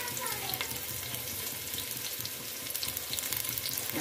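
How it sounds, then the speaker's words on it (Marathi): Onion and bay leaf frying in a pan for vegetable dum biryani, a dense, even crackling sizzle that runs without a break, close and moderately loud. "कांदा भाजून घ्यायचा प्रथम चांगला।"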